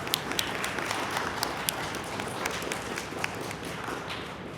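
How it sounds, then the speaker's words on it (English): Dense, continuous applause crowds the whole stretch, with scattered sharp claps standing out over a steady wash of hand-clapping, as at a Cholla Middle School 8th grade promotion ceremony. "Give yourselves a round of applause."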